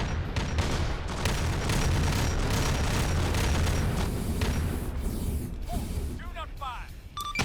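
Heavy gunfire and booming explosions fill a military shooter game battle on Tembelan Island, a dense continuous roar of rapid shots and blasts, loud and sustained, with a brief voice near the end.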